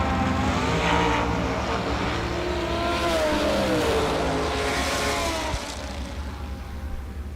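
A dragster and a motorcycle launch side by side in a drag race: loud engine roar with a rising, revving whine in the middle, easing off toward the end.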